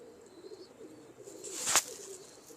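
Pigeons coo softly at a distance, with a faint low murmur and a brief louder call near the end, over quiet background hiss.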